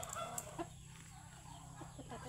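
A chicken clucks a few times close by, short bursts at the start and then scattered softer clucks over a quiet farmyard background.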